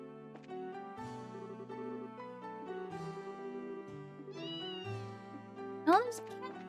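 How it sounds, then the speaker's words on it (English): Cat meowing in the video game Trails in the Sky: a short, high, bright meow near the end, rising over soft game music and chime-like tones, with a loud nearby burst at that moment. "Oh, this cat cute."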